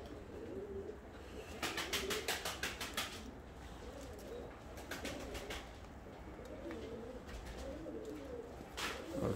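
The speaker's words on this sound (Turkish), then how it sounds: "Kanat seslerine bak." Pigeons, a prized Bursa breed of tumbler, clatter their wings in quick rapid bursts of flapping, repeated several times over soft cooing and faint outdoor ambience.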